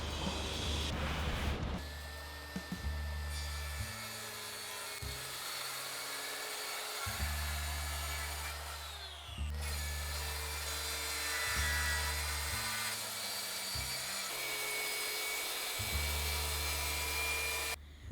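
A plunge saw cuts through cement board in a continuous loud, harsh whine that steps up and down in pitch as the blade works through the cut, with brief pauses between passes.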